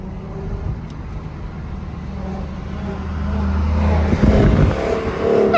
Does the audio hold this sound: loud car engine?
yes